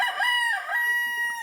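A rooster on a farm, standing on a rice-paddy dike, crows one long, loud, close cock-a-doodle-doo with a rising start and a held, wavering tone, with no other sounds around it.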